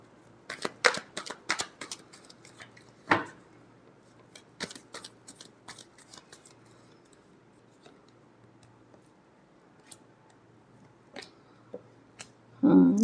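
Tarot cards being shuffled in a short burst of crisp riffling snaps near the start, with a few scattered taps and flicks after and a louder rustle at the end, with talk under it.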